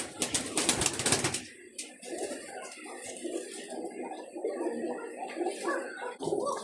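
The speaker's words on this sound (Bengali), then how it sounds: "সব আমার নিজের খামারের কবুতর, আমার নিজের বাড়ি থাকে কবুতর" Home-farm pigeons at a loft in Jhenaidah coo in a low, continuous murmur, with a burst of wing flapping or rustling at the start and a steady, fairly close chorus afterward.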